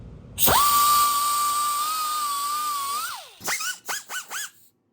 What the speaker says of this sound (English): First things first, we have to grind the paint off of this.